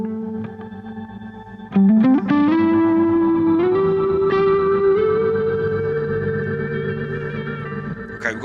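Electric guitar through a BOSS GT-1000 Core with delay into shimmer reverb, tremolo and compression: a few picked notes swelling into a sustained, shimmering, echoing wash with a faint pulsing wobble that slowly fades.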